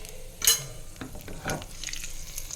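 Mustard seeds and cumin crackling in hot oil for a boiled egg fry curry, a soft close sizzle with a sharp pop early on and a few light stirring scrapes, no talking.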